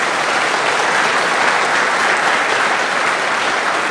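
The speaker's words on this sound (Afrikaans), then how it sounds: "ja, hande klap" A church congregation claps hands at a carol service, a dense, steady roar of applause filling the whole stretch at a loud, even level.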